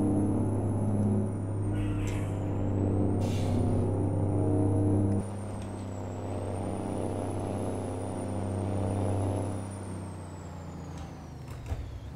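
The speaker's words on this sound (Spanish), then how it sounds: "vamos a acelerar a fondo porque viene una inclinación y escuchemos ese motor" A truck engine in American Truck Simulator strains at full throttle up an incline, a steady loud low drone that drops briefly at a gear change midway and then pulls on again, with a faint high whine above it.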